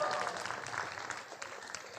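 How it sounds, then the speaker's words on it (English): Audience applause at an alumni batch silver jubilee reunion at NIT Trichy, a steady mid-level clapping from a crowd lasting throughout, with a voice faintly underneath. "let's give them a big hand"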